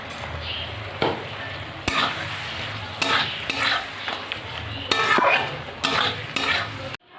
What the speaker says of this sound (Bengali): মাছগুলো দিয়ে আমি একটু নাড়িয়ে নেব